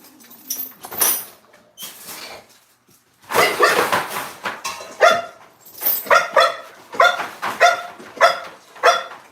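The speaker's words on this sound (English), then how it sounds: "I know you finna do a lot of barking." A dog barks in a series of sharp, loud barks close by, with a pause before a faster run of repeated barks.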